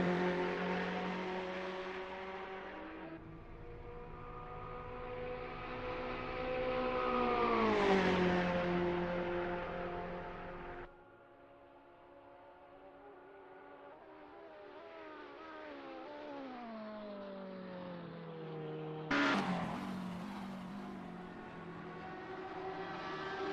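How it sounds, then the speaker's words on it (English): Ferrari 488 GT3 racing around Monza in a racing game, its engine note loud and close, rising and falling with shifts, dropping off briefly before another car's whine cuts in sharply near the end. "Big Dean Energy from Canada is third driving a Ferrari 488 GT3."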